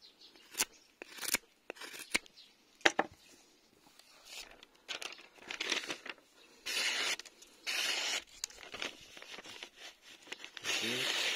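A Yakut knife shaving wood with knots, heard as sharp intermittent rasping cuts and scrapes, some short and crisp and others longer, close up, with occasional talking between strokes.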